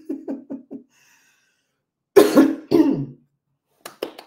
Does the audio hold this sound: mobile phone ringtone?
no